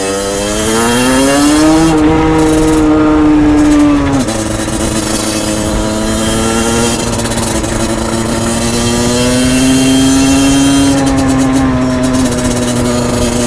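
Motorcycle engine on a short ride filmed with a GoPro Hero 7 Black, droning steadily and close with rising and falling revs as it accelerates and eases off, and a windy rush throughout.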